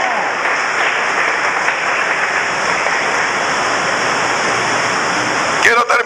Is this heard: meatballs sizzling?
no